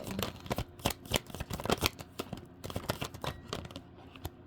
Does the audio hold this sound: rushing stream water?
no